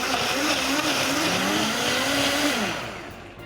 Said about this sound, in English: I usually let that blender go for at least a minute just to make sure that everything is super pureed and smooth